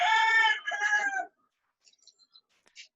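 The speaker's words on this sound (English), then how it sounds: "The rooster has something to say." A rooster crows once, close and clear, in a drawn-out two-part call of about a second, then fades into near silence broken only by a few faint, scattered bird clucks.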